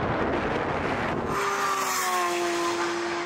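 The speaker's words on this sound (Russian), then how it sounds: "Ах уж эти пробуксовочки" A Lamborghini Aventador SVJ and a McLaren 600LT launch in a drag race, a roaring engine giving way to a rising high whine as tires spin, fairly loud and continuous.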